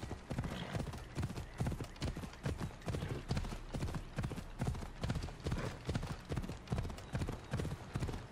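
A horse in Assassin's Creed Odyssey gallops steadily, its hooves clip-clopping in a fast, even rhythm close by, with a brief whinny early on.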